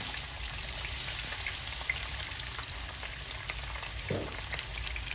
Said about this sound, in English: We got our oil for our potatoes ready. We're going to just slide those in there.